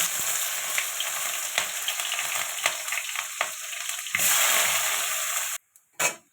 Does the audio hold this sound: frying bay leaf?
yes